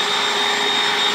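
An indoor vacuum cleaner running, a steady close whining drone with a hissing airflow tone that holds evenly throughout.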